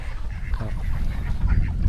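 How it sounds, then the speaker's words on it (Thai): Ducks kept on a small Thai farm quack amid a noisy outdoor background, the calls soft and somewhat buried rather than standing out. "โซนเลี้ยงเป็ดนะครับ"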